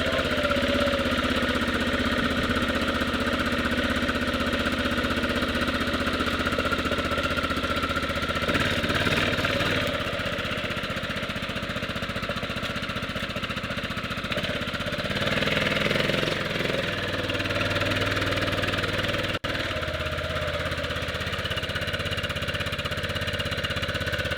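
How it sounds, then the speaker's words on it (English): A 1998 Yamaha Grizzly 600 ATV engine runs continuously, idling hard with a rough, uneven chug and some knocking, steady and close throughout. "Does kind of sound like it's idling a little hard."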